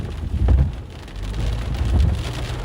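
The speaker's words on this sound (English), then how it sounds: "With a wind blowing the rain across." Wind-driven rain from a supercell storm near Keyapaha, South Dakota, pours steadily in a dense hiss, with gusty low rumbling swells rising and falling throughout and no voices.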